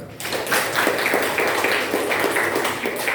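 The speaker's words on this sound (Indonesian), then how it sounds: "Ya, beri tepuk tangan" A classroom of students applauding together, a steady patter of many hands clapping indoors that holds evenly for a few seconds without voices.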